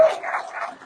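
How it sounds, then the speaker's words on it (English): A police canine gives a single short, loud bark close by, with a brief whimpering tail and no voices. "A police canine barks in approval of recent comments from Governor DeSantis"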